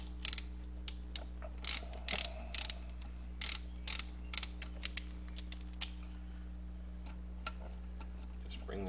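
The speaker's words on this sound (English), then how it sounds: "So we have the torque wrench set for 9 foot-pounds of torque." A torque wrench snugs up valve cover bolts on an LS6 engine, giving a string of sharp ratcheting clicks in short bursts over a steady low hum, fairly quiet.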